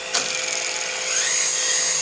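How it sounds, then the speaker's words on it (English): Die grinder fitted with a short-shank carbide burr porting an aluminum intake manifold, a steady high-pitched whine that rises in pitch and grows slightly louder as the burr bites into the metal. "I'm using these little short shank carbide burrs"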